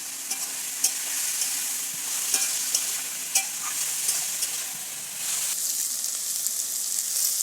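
Chopped vegetables fry for dal in a wok, giving a continuous loud sizzle with the scrape of stirring cutting through at intervals.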